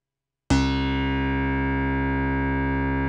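A Moog Matriarch synthesizer plays back a recorded part with mod wheel movement, entering abruptly as a loud, harmonically rich, buzzy sustained tone that holds steady to the end with no other sounds.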